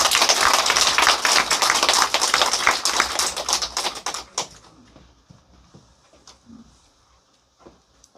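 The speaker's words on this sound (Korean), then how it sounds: "우리는 박수를 손바닥이 찌릿찌릿할 정도로 쳐주시면 되겠습니다." An audience at a live weekly lecture event breaks into dense, loud applause that holds for about four seconds, then thins out into a few scattered claps and fades to near silence.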